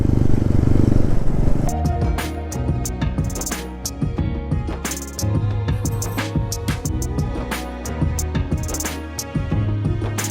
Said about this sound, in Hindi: बाइक में कभी कभी मज़ा आता है ऐसी छोटी मोटी राइड करने में